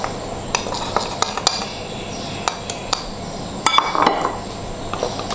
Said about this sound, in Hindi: एक अलहदा से बाउल के अंदर, और इसको मिक्स करेंगे